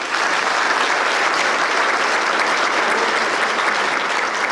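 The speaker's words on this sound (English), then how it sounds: "Give these gentlemen a round of applause, please." Dense, continuous applause from a banquet audience at an annual chamber of commerce event honoring state representatives, even and sustained throughout with no talking.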